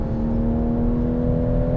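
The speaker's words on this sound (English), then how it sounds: "The engine's really nice and smooth." Toyota Supra A90 engine pulling steadily on a race track, a smooth continuous drone with a strong steady tone, loud and close throughout with no talking.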